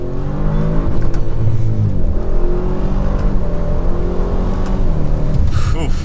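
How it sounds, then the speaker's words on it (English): An ABT Audi RS7-R V8 revs hard and loud from inside the car, the engine note climbing repeatedly, briefly hitting the rev limiter as power cuts, then pulling again with a final rising whine. "it just kind of hit the rev limiter a little bit, cuts power, and then lets you get back into it"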